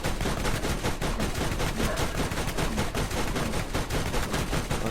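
Dense, continuous video-game gunfire from Borderlands, rapid automatic bursts firing without pause throughout, loud and close with no talking over it.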